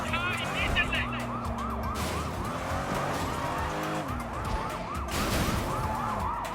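Police sirens wail in the Sleeping Dogs video game during a chase, several overlapping, rising and falling tones over engine roar and crashes, loud and continuous.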